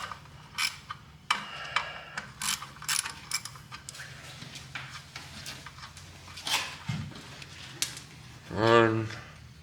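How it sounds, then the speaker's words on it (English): Ratchet wrench backing out wheel cylinder bolts on a 1979 Pontiac Bonneville, with repeated quick clicking bursts of the pawl and metallic tool clatter, fairly faint, with a voice heard briefly near the end. "I'm taking these two bolts out right now, and this wheel cylinder will be out."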